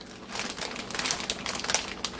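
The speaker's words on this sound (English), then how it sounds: "I got a bag of the fun size 3 Musketeers" A plastic bag of fun-size 3 Musketeers candy bars crinkles and crackles up close in a brief burst of rustling handling.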